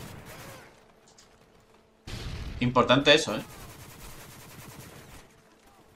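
Rapid bursts of gunfire from the video game Modern Warfare 3 crackle loudly for about a second, rising out of a quieter game soundscape while a player talks over it.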